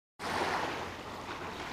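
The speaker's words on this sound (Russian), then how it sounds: "Я возле моря." Sea waves at an empty beach in Turkey, a broad, steady wash of surf and wind that starts abruptly and continues without talk.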